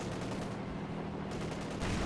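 Distant gunfire in a Company of Heroes 2 battle, rapid rattling shots running continuously under dense battle noise at low level.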